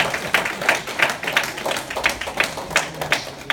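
An audience claps loudly in a steady rhythmic beat, sharp hand claps repeating about three times per second, close and prominent.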